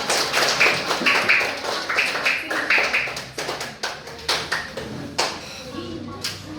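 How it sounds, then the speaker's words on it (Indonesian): Classroom applause at a primary school for pupils who came to the front, with a scatter of handclaps and taps over a noisy room and a teacher's voice talking. "Tepuk tangan dulu semuanya untuk kawan-kawan yang maju"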